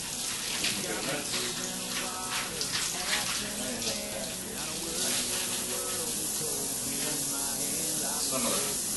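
Mussels are rinsed in a kitchen sink under a steady running tap, the water hissing and splashing continuously at close range, with a faint voice murmuring in the background.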